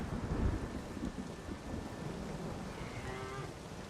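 Thunderstorm with steady rain in The Witcher 3, a broad wash of rain noise under a low rumble of thunder that swells early on, with a faint tonal game sound late in the clip and no talking.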